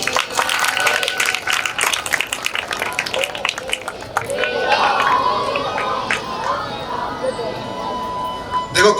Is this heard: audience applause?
yes